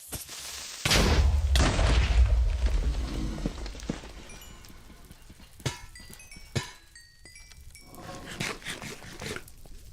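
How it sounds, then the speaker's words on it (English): A TNT block explodes in a Minecraft-style block game, a loud broadband boom that rolls on for about three seconds, followed by scattered smaller pops and sparse clicks as the blast fades. "Just surprised that explosion was as small as it was."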